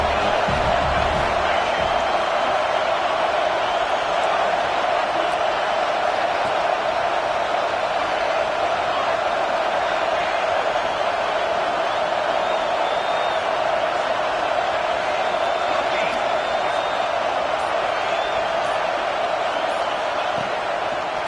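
A football stadium crowd roars in a steady, dense wash of cheering behind the home defense on a big third down, loud and unbroken throughout.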